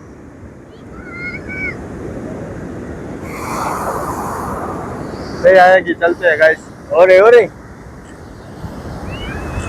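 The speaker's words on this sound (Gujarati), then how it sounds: "પાણી જેટલું પાછું જાય ને એટલી મોટી લહેર" Ocean surf washes onto Bechtel beach near Dwarka, Gujarat, as a broad, steady rush mixed with wind. Several people chat and shout over it.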